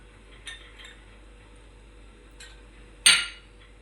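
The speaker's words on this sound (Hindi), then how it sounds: "अब हम इसके अंदर गिलास के अंदर बर्फ़ डाल देंगे, लेमन के पीस डालेंगे" Ice cubes clink into a glass for tamarind sharbat: a couple of light taps early on, then one sharp, bright clatter near the end, close and clear with no talking.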